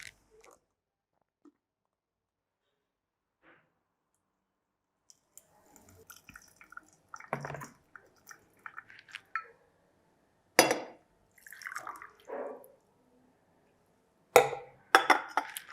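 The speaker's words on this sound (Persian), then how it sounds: "فیلتر رو در داخل نرم افزارم میذارم و کاملا با آب داغ میشورمش" Hot water is poured over a paper filter in a coffee dripper, producing sparse drips and clinks that give way to a few louder splashing pours, with quiet gaps between them.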